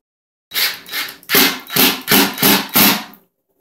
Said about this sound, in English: you will need to apply some pressure when screwing in your screws